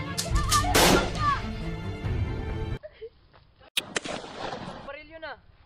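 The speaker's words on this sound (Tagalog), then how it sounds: "Baril yun ah!" A single sharp gunshot rings out in a short film made at a school in Kalinga, Tabuk, cutting off loud shouting; afterward comes a pause, then distressed voices and whimpering.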